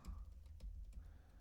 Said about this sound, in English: So I'm literally just typing in these ports that were discovered before.